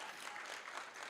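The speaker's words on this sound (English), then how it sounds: "Let's clap for it." An audience at a Build24 Hawaii event claps steadily, a dense wash of applause that holds at an even, moderate level for its whole brief length.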